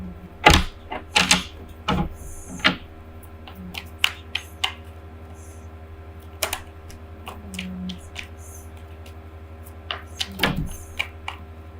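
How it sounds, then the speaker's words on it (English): Tarot cards being handled and tapped back into the deck, heard as sharp, scattered clicks and slaps close up, in irregular bursts with pauses between them. "Too many cards fell out here, so I'm going to put them back."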